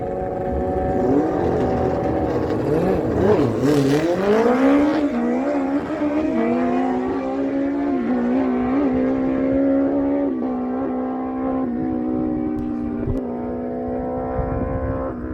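A 1974 K2 900 LTD four-cylinder machine makes a drag strip run at Miramichi Dragway, New Brunswick. Its engine roars loudly and climbs in pitch through the gears, then settles into a sustained high-revving drone that fades slightly toward the end.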